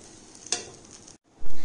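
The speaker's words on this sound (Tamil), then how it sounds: "நம்ம தேவையான அளவு கொஞ்சமாக எண்ணெய் விட்டுட்டு நல்லா இந்த மாதிரி ப்ரௌன் ஆனதுக்கப்புறம் எடுத்துடலாம்." Paneer carrot cutlets frying in a little oil, a soft steady sizzle with a brief clink near the start, then a short gap and a louder burst of sizzling.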